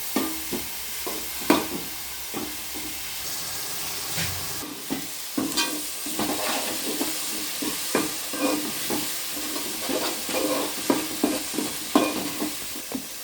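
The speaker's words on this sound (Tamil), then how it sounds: "அந்த வெங்காயத்தை இந்த எண்ணெயில் போட்டு வதக்கு." Ground onions sautéing in hot oil in a pan for a fish curry, with a steady close sizzle broken by frequent scraping stirs and clicks of a utensil, no talk.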